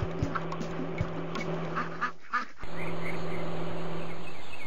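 Cartoon baby ducks quack in a series of short, close calls over a backing music bed, before the scene cuts to a different, steadier soundtrack.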